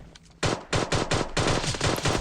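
Rapid PUBG pistol fire: about seven loud, evenly spaced shots in quick succession after a brief quiet start.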